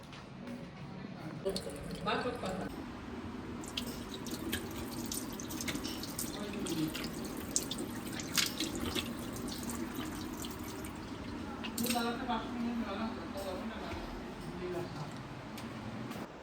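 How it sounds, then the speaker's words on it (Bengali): Tap water runs steadily into a sink while clothes are washed by hand, with splashing, dripping and sloshing throughout. A voice is heard at times over the water. "সব জামা কাপড়ই ধুচ্ছি শোকাতে পারছি না"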